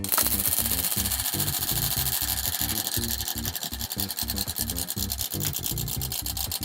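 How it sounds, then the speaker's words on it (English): A game show prize wheel spins with a rapid, rhythmic ticking and rubbing clatter that carries on steadily throughout, close and fairly loud, with no talk over it. "Spin that wheel."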